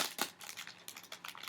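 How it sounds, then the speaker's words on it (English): Plastic cross stitch packaging for a Mill Hill kit on perforated paper crinkles close up in a quick series of sharp crackling bursts, with no talking. "Sorry for the crinkle."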